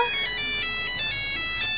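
A mobile phone ringtone plays a bright, repeating electronic melody, loud and close, pulsing in a steady rhythm with nothing else over it.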